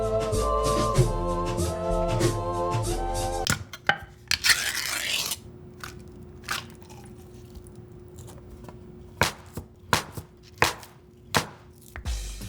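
A knife slices through a block of Spam on a cutting board: a run of distinct, crisp chopping strokes, close and fairly loud, spaced irregularly with short gaps, after a brief burst of music at the start.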